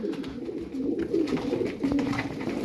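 Tumbler pigeons, a breed of play pigeon, cooing nearby in soft repeated low throaty calls, fairly quiet, with no talk.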